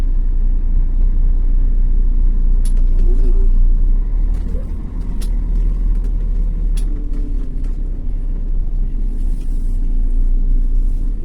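A city bus passes close by on a street, its low engine rumble steady and loud throughout, with brief higher clatters and a faint voice in the background.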